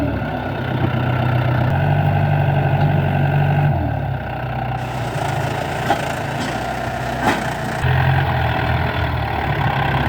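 A Yanmar YM357A tractor's diesel engine runs steadily close by, a deep continuous rumble with a slight shift in pitch partway through and no talking.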